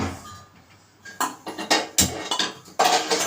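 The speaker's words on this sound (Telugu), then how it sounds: "స్టవ్ మీద ప్యాన్ పెట్టుకొని స్టవ్ వెలిగించుకోవాలి." A pan set down on a stovetop with a few metallic clanks and knocks, followed by the burner being lit, heard up close with no talking.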